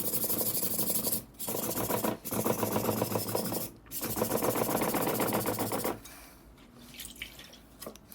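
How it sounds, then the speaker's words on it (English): Knife blade ground against a sharpening stone, metal being removed near the edge; loud, steady rasping strokes in three long passes with brief pauses, then quieter scraping at the end. "you can see it's already starting to grind a little bit of metal"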